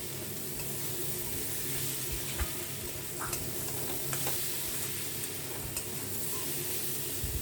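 Sugar stirred in a hot pan while cooking muri ghonto, a Bengali dish made with katla fish head, with a steady close sizzle and occasional scraping clicks of the spoon running throughout.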